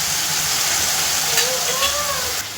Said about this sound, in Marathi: टमाटा बी चांगला तळून झाला आहे कसं